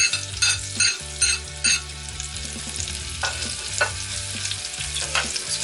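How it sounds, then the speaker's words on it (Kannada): Boiled, chopped potatoes frying and being stirred in a pan for a simple potato fry, with a steady sizzle, repeated scraping stirs and a few utensil clinks, close up with no talking. "ಬೇಯಿಸ್ಕೊಂಡು ಹೆಚ್ಕೊಂಡಿರೋ ಆಲೂಗಡ್ಡೆನ ಹಾಕೋಣ"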